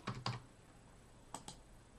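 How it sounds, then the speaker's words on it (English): A few quiet keystrokes on a computer keyboard while code is entered, two pairs of soft close taps separated by a short gap, with no voices. "Then we type in true,"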